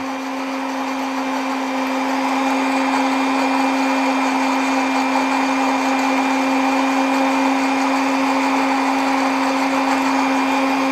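A blender runs steadily, grinding garlic with grapes and honey into a smooth paste, a loud close motor whine with a constant hum and whirring texture throughout, no talking.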